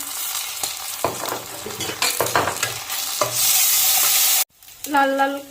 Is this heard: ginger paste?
yes